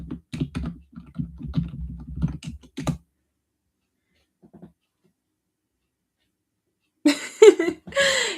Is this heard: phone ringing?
no